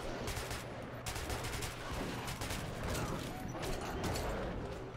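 Rapid, continuous gunfire in the shooter game Metro 2033 Redux, dense overlapping shots sustained throughout at a fairly even loudness.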